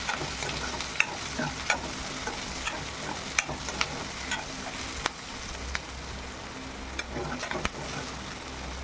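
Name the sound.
crushed garlic frying in a pan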